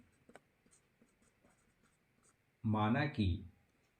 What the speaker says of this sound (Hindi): हल करते वक्त यहाँ पर लिख लेंगे हल